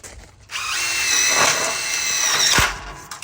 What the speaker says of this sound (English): I put the screws in on the back side first, install on the front